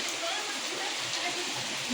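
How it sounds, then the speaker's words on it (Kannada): Heavy rain pours down in a village, a steady broadband hiss that fills the whole clip at a constant, fairly loud level. "ಹಿಂಗೆ ಬರ್ಬೇಕು ಮಳೆ"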